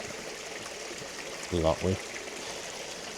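Steady, broadband rush of a waterfall continues unbroken throughout, with someone briefly speaking over it midway.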